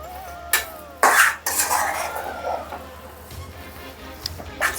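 Grated coconut stirred into upma in a pan over low flame, with a spoon clanking and scraping against the pan in irregular close strokes, a few sharp knocks standing out.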